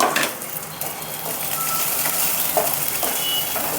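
Chili powder, cumin, pepper and coriander powder fry in hot oil with a loud, continuous sizzle, a few soft scraping stirs and some faint high beeping tones in the background, no speech.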